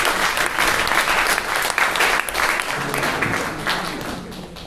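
Loud, steady applause from the audience at a guitar-and-poetry tournament evening, dense clapping filling the room and slowly tapering off toward the end, with no voices over it.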